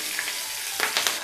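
Dried chilies, curry leaves and raisins roast in hot oil in a pan for curd poha, a steady close sizzle and crackle with a few brief pops.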